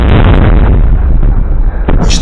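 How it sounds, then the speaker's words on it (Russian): A loud, sustained blast of gunfire or artillery at a war front, dense and booming, filling the whole moment close by with no pause and no talk. "Выстрел!"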